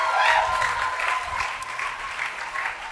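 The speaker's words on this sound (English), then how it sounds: "Please, graduates, put your hands together and applaud as hard as you can for those unsung persons." A graduation audience fills a hall with sustained, dense applause, many hands clapping at once in a steady, loud wash that lasts throughout.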